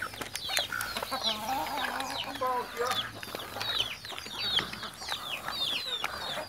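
Several speckled free-range chickens cluck and chatter close by in quick overlapping calls, with a black-speckled rooster among them and a voice faintly underneath.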